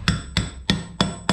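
Hammer striking metal while replacing the power steering pressure sensor on a Ford Fusion or Fiesta, five sharp evenly spaced blows close up, each ringing briefly, with no talking.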